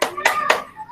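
Children in a classroom clap hands in three quick, sharp claps close together while a voice is heard along with them.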